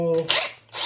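Power drill boring a one-inch hole through a new door for a handle, a short loud burst of whirring that follows a brief harmonic motor whine.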